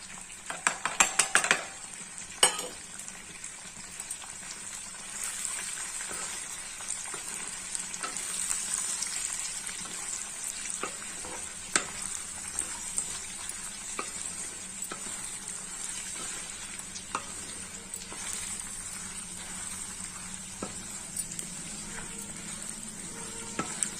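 Green chilies and asafoetida fry in hot oil in a pan for temple-style tamarind pulihora gravy, giving a continuous close sizzle with occasional spatula scrapes and clinks, no talk.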